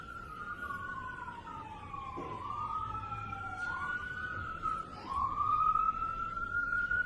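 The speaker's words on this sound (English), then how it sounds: "wait until the sirens pass" Emergency vehicle sirens pass outside a courtroom, heard faintly and at a distance: overlapping wailing tones slide slowly up and down for several seconds over a low background hum, with no one speaking.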